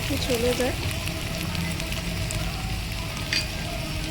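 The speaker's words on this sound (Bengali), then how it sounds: "প্রথম বাটাটাকে ভালো করে ভেজে নিতে হবে যেন কাঁচা গন্ধটা" Spice paste for chicken bhuna frying in a pan, a steady sizzle running throughout at moderate loudness, with speech-like tonal sounds briefly in the background.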